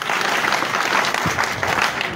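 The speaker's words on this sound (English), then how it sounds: "That hand clap for them." Crowd applause for party leaders at a National Unity Platform leadership school graduation, a steady wash of clapping held at an even level throughout, with no speech over it.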